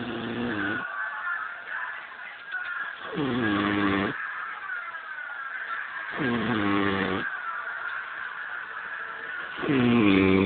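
A person snoring, with four long, loud, rasping inhalation snores coming at a slow, steady rhythm, each lasting around a second and separated by quieter breathing, close to the listener.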